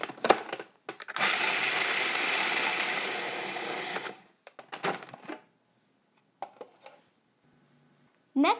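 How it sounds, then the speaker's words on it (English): A food processor grinds walnuts and salt into coarse crumbs for a raw flourless chocolate cake, a loud steady whirring run of about three seconds with clicks and handling sounds before and after. "I'll go ahead and process the walnuts and the salt until they resemble coarse crumbs"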